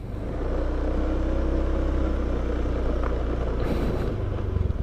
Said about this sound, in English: you turn the throttle slowly, so you can hear the sound engine is slow but sure.